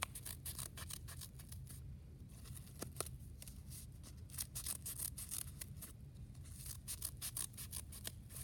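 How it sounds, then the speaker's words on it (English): Scissors snipping through folded paper to cut an intricate snowflake design, a quick irregular series of close, crisp clicks and rustles over a quiet background. "cutting out quite a bit of the paper"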